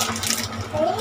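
Tap water runs steadily into a sink while food is washed for Chinese long soup, a continuous close wash of splashing with a voice speaking briefly over it.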